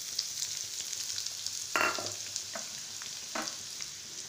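Onion frying in a pan for kuzhi paniyaram, a soft steady sizzle broken by a few sharp stirring scrapes, close and without speech.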